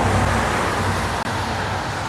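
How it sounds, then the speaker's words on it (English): Early-morning street traffic outside a house during a May garden tour, with a steady broadband roar of passing cars and road noise, loud and continuous with a brief dip, no voices. "I apologize for the street noise because it is early in the morning and people are going off to"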